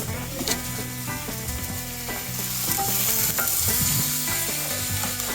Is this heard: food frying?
yes